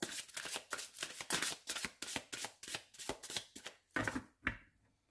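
Oracle cards being shuffled by hand, a rapid series of crisp riffling bursts in a steady rhythm, close and fairly quiet, ending with a few slower shuffles.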